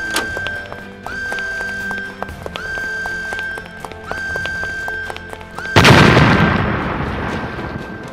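An explosion in a science-fiction audio drama bursts in suddenly as a loud, broad roar after rhythmic clopping and pulsing sound effects, then rumbles and slowly fades.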